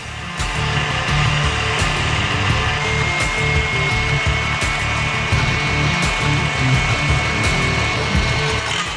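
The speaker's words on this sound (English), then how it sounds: "I'm going to whisk those egg whites until they're nice and fluffy. Then I would add sugar slowly over the high-speed stand-up mixer" A high-speed stand mixer whisks egg whites for French meringue, a loud continuous motor whir with a rhythmic beating pulse throughout.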